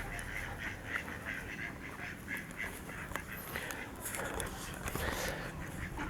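Ducks quacking on a wet castle moat, repeated nasal calls in an irregular chatter from several birds at moderate distance, with wind and outdoor ambience beneath.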